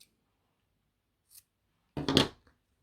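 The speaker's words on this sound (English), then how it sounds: "Okay, so I'm just going to snip that one." Scissors cut yarn while finishing crocheted baby booties. A faint snip comes first, then one louder close cut in an otherwise quiet room.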